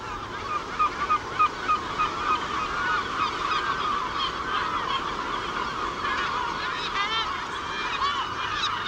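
Herring gulls, adults with chicks nearby, let out a busy run of overlapping honking, squawking calls, with some sharp cries near the start over a steady colony din.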